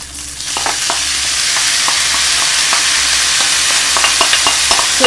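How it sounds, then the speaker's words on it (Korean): Kimchi stir-frying with ham in a pan gives a steady, loud sizzle, with scraping spatula stirs breaking through at irregular moments. "햄을 볶은 다음에 김치를 투입."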